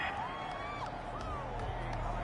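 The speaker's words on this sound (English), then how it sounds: "This home crowd, they're happy with that call." A home stadium crowd in Madden 21 roars its approval of a referee's call, a steady, broad mass of cheering and whooping.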